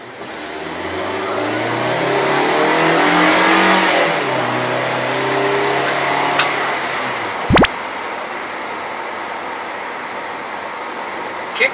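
A Toyota TownAce van engine pulls hard under full throttle, heard from inside the cab as a loud, rising drone that climbs in pitch for several seconds before easing off, with a sharp clunk near the end.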